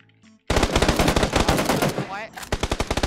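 Automatic gunfire in the video game PUBG rattles in a rapid, loud burst, pauses briefly, then resumes with a second string of evenly spaced shots.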